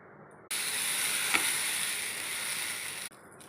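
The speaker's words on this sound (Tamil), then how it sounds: "இப்போ தோசையை எடுத்து போட்டுருவோம்." Dosa batter sizzling on a hot pan, a steady loud hiss that starts abruptly, holds for about two and a half seconds, then cuts off.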